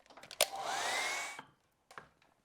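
A hair dryer blows on wet watercolor paint, running in one loud, steady burst of roughly a second with a whining tone, framed by small clicks and knocks before and after.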